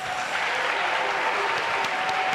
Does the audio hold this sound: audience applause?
yes